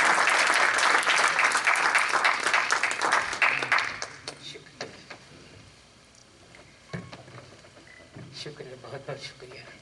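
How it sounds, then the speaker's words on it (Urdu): Applause greets a poet at an Urdu Academy tribute event, a dense, loud wash of clapping for the first four seconds that fades into quieter room noise with scattered claps and stirring. "زوردار تالیوں کے ساتھ استقبال کیجیے"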